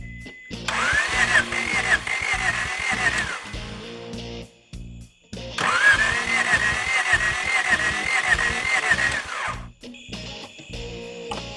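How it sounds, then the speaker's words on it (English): A 1987 Acura Integra engine is cranked over on its starter in two long bursts, a whirring, chattering drone lasting several seconds each, separated by a brief pause, with a short quieter tail at the end. "we're going to try and turn it over a little bit and check we're getting oil pressure"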